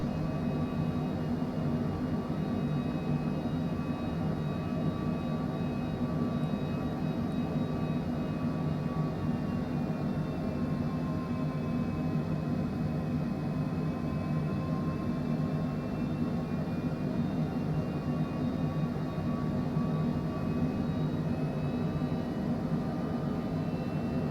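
A Longitude business jet in Microsoft Flight Simulator 2024 hums with a steady, continuous engine drone as it eases off the throttle, a broad even roar with faint tonal whines and no talking.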